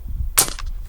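A single sharp crack from a CO2-powered air rifle heated in the sun, one close, abrupt shot with a brief bright tail over quiet outdoor background.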